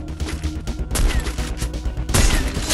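Rapid gunfire in the Free Fire Max battle royale game, with dense bursts of shots that grow louder and heavier around the middle and again near the end, loud and close throughout with no talking.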